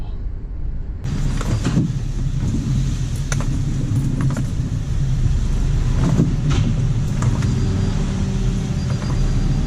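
A car pulling over to the roadside, with a steady engine and road rumble that starts abruptly after a second and continues loud and close, plus scattered knocks and rattles.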